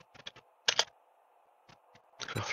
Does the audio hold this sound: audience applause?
no